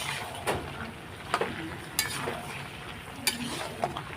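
Chickpeas and peas are being sautéed in a pan, with a soft sizzle under five or six sharp spatula scrapes and clinks against the metal, spaced about a second apart.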